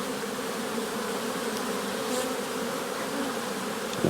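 Honey bees swarming around an opened hive in garrigue scrubland, a dense continuous buzzing hum close by, steady and unbroken with no voices.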